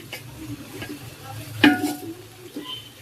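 Rice and spices are stirred in a cooking pot with soft scraping strokes and a faint sizzle, broken by one sharp clatter of a utensil against the pot midway.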